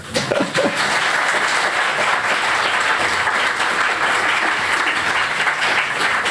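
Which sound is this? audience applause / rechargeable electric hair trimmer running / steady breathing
audience applause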